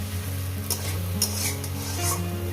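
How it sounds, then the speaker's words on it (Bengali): Fish sizzling as it fries in a pan for a Bengali mashed greens dish, a steady close crackle with a few brief utensil scrapes. "মাছটাকে দিয়ে আমি আরও চার মিনিট ধরে ভেজে নেবো"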